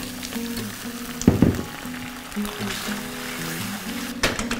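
Water poured into a hot pan of frying chilli idli bursts into a loud sizzle, then settles into a steady crackle before another sharp flare near the end.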